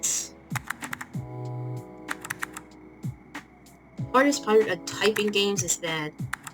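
Typing on a computer keyboard for the game CozyTyper: sparse single key taps at first, then a fast dense burst of clicking, close and clear over soft game music tones.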